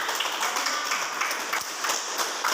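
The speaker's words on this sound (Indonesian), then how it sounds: "tepuk tangan kepada kelompok 2" A classroom audience of university students applauds a student group with a dense, continuous patter of hand claps that fills the room at moderate loudness.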